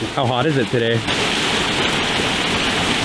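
Roadside waterfall rushing right beside the road, a steady loud broadband roar filling the clip after a short burst of talk at the start.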